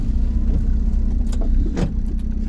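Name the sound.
VW T3 van with TDI engine driving on the open road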